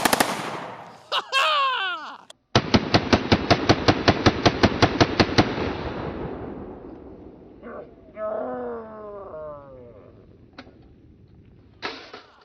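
A PSR41 gun fires steel shot in a rapid, evenly spaced burst of about a dozen sharp, loud reports, followed by ringing echoes and brief mechanical sounds as the firing dies away.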